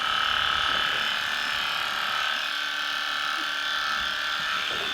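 Aesculap Econom Equipe electric clipper running through a horse's coat, a constant close buzzing drone with a slight wavering as the blades move through the hair, steady throughout.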